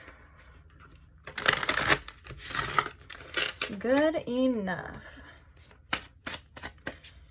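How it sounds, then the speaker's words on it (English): Cards are riffled and shuffled in a few quick, crisp bursts, with a person speaking softly between them. "I just want to do like one more shuffle."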